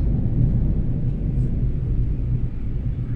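Continuous low rumble of thunder during a heavy rainstorm over Makati, a loud, steady roll of deep sound without clear breaks or voices.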